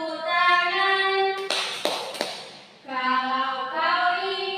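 Three sharp hand claps land between lines of a children's song sung together, the singing pausing briefly as the claps ring out close and clear.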